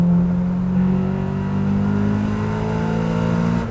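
A JDM Honda Civic Type-R with a 1.8L stroker engine accelerates, its steady engine drone holding and slowly climbing in pitch throughout, close and continuous, with no voices.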